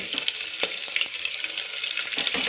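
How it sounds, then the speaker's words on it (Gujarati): Butter melts in hot oil for a chhole pulao, giving a steady, close sizzle and crackle with small popping bursts throughout and no talk. "આપણું તેલ ગરમ છે એટલે બટર સારી રીતે એમાં મેલ્ટ થઈ જશે"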